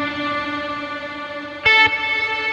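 Electric guitar through the Archetype Tim Henson plugin with diffusion-mode delay: a held, shimmering chord that smears into the space, then a sharp new strum near the end that blooms and fades into a wash.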